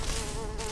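Cricket song playing from a cassette player inside the video game Deadly Creatures, a continuous buzzing insect-like drone, close and steady for under a second.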